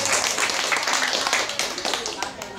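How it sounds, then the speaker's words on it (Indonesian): A group claps for the women at a neighborhood mosquito-nest monitoring gathering in RW 06, Manggarai Selatan; the clapping is close, busy and uneven, with a babble of voices mixed in. "tepuk tangan dulu buat ibu-ibu ya"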